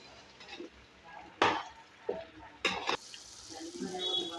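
Cashew gravy masala stirred and fried in a pan, with a steady sizzle under sharp metallic scrapes of a spoon against the pan at intervals.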